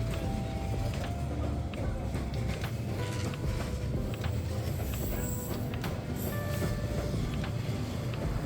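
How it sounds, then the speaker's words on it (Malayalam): A train rolls past within arm's reach on Hanoi's narrow train street. Its dense, continuous rumble and wheel clatter stay close and steady throughout, with faint voices in the background. "നമ്മുടെ ഒരു 1 ഹാൻഡ് ഡിസ്റ്റൻസ് പോലും ഇല്ലാണ്ടാണ് ഈ ട്രെയിൻ പോവുക"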